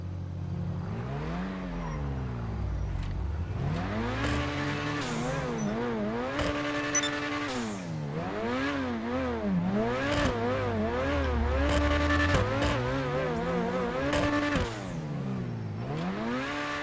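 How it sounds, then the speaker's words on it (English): Grotti Itali GTO sports car in GTA Online, its engine revving and accelerating hard through repeated gear changes, loud and continuous with rising and falling pitch sweeps and no talk. "It's a very, very fast car."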